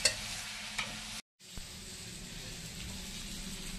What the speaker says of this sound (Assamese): আলুৱে অলপ বিলাহীয়ে ভাজি লওঁ